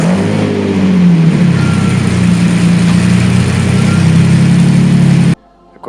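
Lamborghini Diablo VT with a 5.7-liter 492 horsepower V12 revs loudly and close, pitch climbing then holding a strong sustained roar for about five seconds before cutting off abruptly to near silence.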